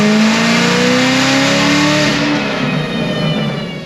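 A 1000-horsepower stage 4 Chevrolet Camaro ZL1 engine revs hard and loud on a dyno, its pitch climbing and holding under heavy load, then easing off near the end. It drones on steadily throughout.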